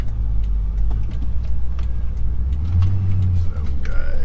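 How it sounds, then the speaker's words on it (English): A twin turbo V8 Land Cruiser accelerating, a deep, steady engine drone from inside the vehicle with a rise in pitch toward the end. "we'll give it a run through the gears here"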